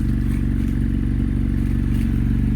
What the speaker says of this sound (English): I'm not even revving my engine. I just have my bike idle.